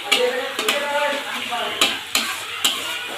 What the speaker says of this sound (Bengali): এবার আমি পেস্তা বাদাম আর পোস্ত বাটাটা দিয়ে দেবো